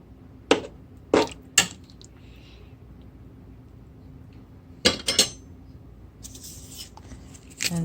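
Spoon scraping and clinking against a pot of Puerto Rican chicken stew (pollo guisado) while stirring, a few sharp clinks near the start and a cluster later, with quiet gaps between.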